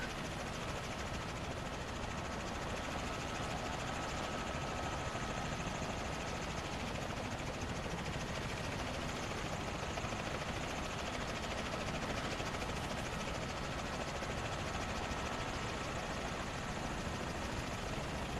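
A helicopter engine and rotor in Microsoft Flight Simulator 2024 produce a steady, dense drone at constant loudness throughout, with no talk over it.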